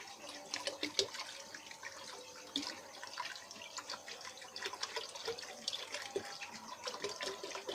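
Water is poured at home into a spiced pakora curry batter, a faint, continuous trickle with small splashes and drips.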